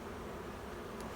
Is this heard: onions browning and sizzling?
no